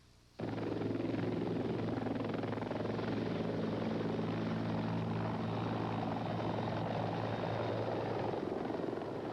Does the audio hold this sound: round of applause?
no